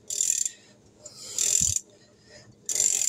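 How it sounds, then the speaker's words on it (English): An oiled engine is turned over slowly by hand, giving three separate bursts of close, raspy mechanical ratcheting with a dull low thump in the middle burst, and quiet pauses between. "Just spin her over by hand."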